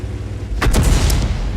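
A tank gun firing a single shot in a tank video game, a loud booming blast with a short rumbling tail over steady low engine drone.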